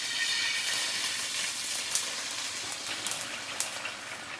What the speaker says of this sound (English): Get your 12 ounces, pour it in.